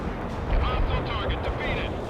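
Artillery firing in World in Conflict, a dense rumble of booms with heavier low thuds near the middle, while a radio-style voice talks over it.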